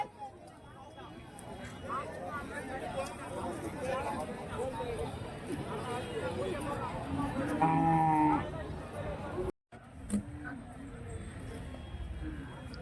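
Jersey and HF dairy cattle at a busy livestock market in Karimangalam, Dharmapuri, with a cow lowing around the middle amid overlapping crowd chatter and background noise.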